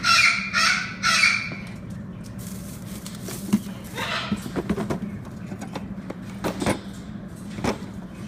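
African pied crow cawing loudly at close range, a few harsh raspy calls in quick succession, followed by softer scuffling and small clicks in a quiet room.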